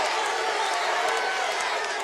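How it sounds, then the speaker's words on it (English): A packed wrestling arena crowd cheers and roars in a dense, continuous wash of noise that fills the whole stretch at an even level. "Listen to this crowd."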